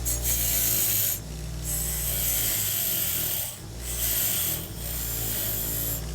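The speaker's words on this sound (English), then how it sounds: "This is a grinding wheel with a wire brush on it." A wire brush mounted on a grinding wheel scrubs rust off brake pad clips, a loud rasping whir with alternating pressure and brief lighter gaps between passes.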